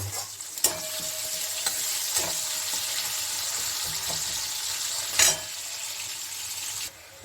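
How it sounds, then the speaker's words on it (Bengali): Onion fries in hot oil with a bay leaf, a loud steady sizzle that runs close for several seconds, with occasional clinks of a stirring spoon, then fades near the end. "আর দিচ্ছি আমি ফোড়নে একটু পেঁয়াজ দিয়ে দিচ্ছি"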